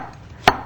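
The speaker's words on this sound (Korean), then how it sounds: "반달 모양으로 한 5mm 정도 두께로 이렇게 네. 이쁘게 잘라주세요." One crisp knife stroke through a vegetable cut into half-moon slices about 5 mm thick, ending in a single sharp tap on the cutting board in a quiet kitchen.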